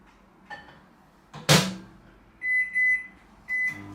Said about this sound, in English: I'm going to pop the milk in the microwave.